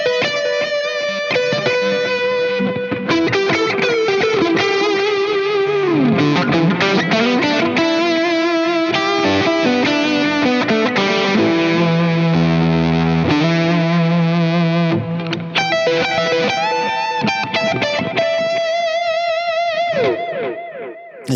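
A guitar played through a Wampler Catacombs delay and reverb pedal rings out in sustained notes and chords, with repeating echoes and a lingering reverb wash trailing each phrase for about twenty seconds.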